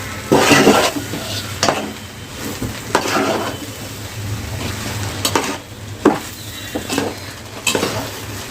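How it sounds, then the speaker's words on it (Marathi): Homemade Chinese fried rice with soy sauce is stirred and tossed in a hot pan, with a steady sizzle under repeated scraping and clinking strokes of the spatula against the metal, close and moderately loud, with no talking. "वरतून चांगली मिक्स करून घेऊया"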